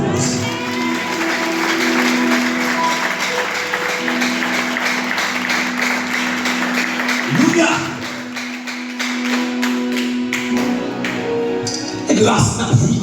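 A church congregation applauds steadily with scattered cheers and a sustained musical tone underneath, a dense, continuous patter of many hands with a brief louder swell near the end.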